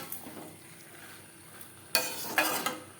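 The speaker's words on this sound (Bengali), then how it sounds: "মশলার সাথে আলু বেশ ভালো করে মিক্স করে দেবো" Chopped unpeeled potatoes being stirred with spices in a frying pan over medium flame for a fish roe dish: quiet scraping at first, then louder sizzling and spoon scrapes in bursts toward the end.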